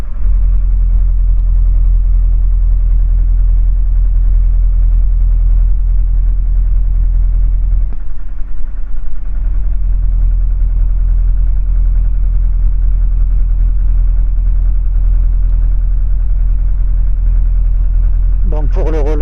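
A light aircraft engine idles steadily on the ground while its oil warms up, a loud constant drone that dips briefly partway through, with people talking over it.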